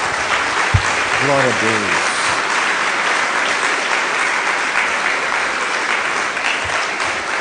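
Congregation clapping for Jesus at an evening church service, steady dense applause filling the room throughout, with a voice speaking over it partway through.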